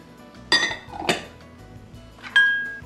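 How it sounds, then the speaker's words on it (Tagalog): Glutinous rice flour and sugar are combined in a deep bowl, with a few distinct clinks and knocks of utensils against the bowl, close and separated by short quiet gaps. "Sa isang malalim na bowl, pagsamasamahin natin ang arinang malagkit, ang asukal,"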